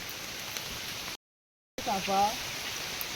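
Rain falls outdoors on a rural path as an even, soft hiss that cuts out briefly partway through, then returns with a voice speaking over it.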